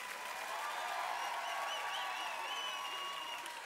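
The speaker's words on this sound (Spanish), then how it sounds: "Un aplauso, por favor, al maestro Ethan." Applause from a concert audience for a maestro after an orchestra performance on a televised music show, a steady, moderately distant wash of clapping with faint crowd noise, continuous for the whole stretch.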